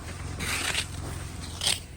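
Shovels scrape and crunch through heavy snow in front of houses during a snowstorm in Vancouver, Canada. Two or three short, gritty strokes come in quick succession, fairly close by, with no talk.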